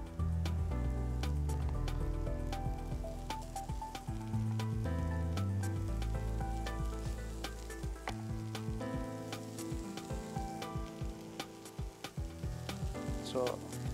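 Grated paneer fries in a masala, giving a loud continuous sizzle with scraping and stirring clatter throughout, close to the pan and without voices.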